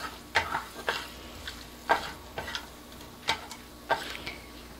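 Dried red chillies frying in hot oil while being stirred: a quiet steady sizzle broken by a series of sharp spoon scrapes and clicks against the pan, roughly one every half second or so.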